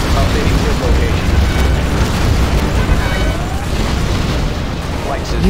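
Cruise missile warheads detonate in the C&C Generals strategy game, a dense, loud wall of booming explosions and rumbling blasts that continues throughout, with a game voice speaking over it.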